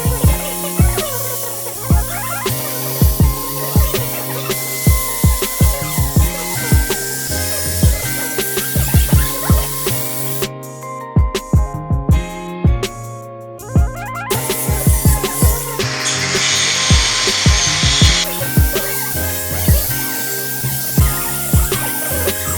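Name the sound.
power tool trimming the steering rack mount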